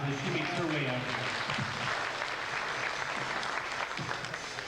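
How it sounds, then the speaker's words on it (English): Audience applause at a magic show, a broad steady wash of clapping that holds for several seconds, with a voice talking over it at the start. "Let's give Jocelyn a nice round of applause as she makes her way out here."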